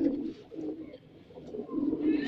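A pigeon coos close by in soft, low, throaty pulses that repeat in a rolling rhythm, with no voices.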